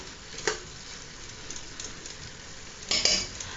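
Meat with tomatoes and crushed garlic is stirred in a cooking pot, a soft sizzle running steadily underneath, with a spoon scraping and clinking against the pot twice, near and clear.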